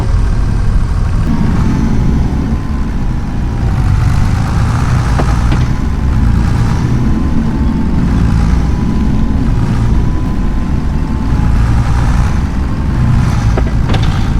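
A heavy 8340 tractor engine in Farming Simulator 25 runs continuously with a rough, uneven rumble and occasional jerking jolts in its tone.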